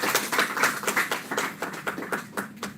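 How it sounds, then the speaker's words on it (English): A round of applause from the audience at a corporate sustainability conclave, with individual claps audible in an uneven rhythm, fairly close and loud, and no voices over it. "Can we have a round of applause for them?"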